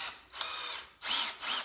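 Power drill with a bit boring deeper screw holes into wood for a hutch, two whirring bursts with a brief pause between, close and fairly quiet.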